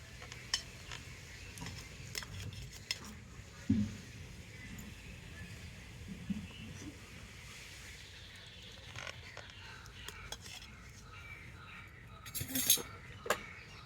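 Knife cutting a chilled, set dessert into rounds, with soft scrapes and occasional light clinks of metal against a dish, scattered and quiet, rising to a sharper clatter near the end.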